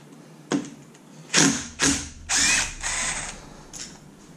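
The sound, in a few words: power tool removing T40 screws from Arctic Cat differential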